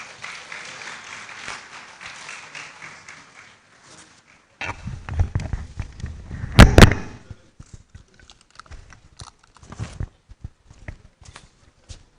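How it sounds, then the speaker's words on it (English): Scattered, uneven clapping from an audience at a university inaugural lecture rises into a fuller round of applause with a sharp loud burst midway, then thins out into sporadic claps. "Let's welcome them with a round of applause."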